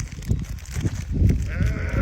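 Sheep bleating among a flock, a steady wavering call close by over rough outdoor background noise, with no talk.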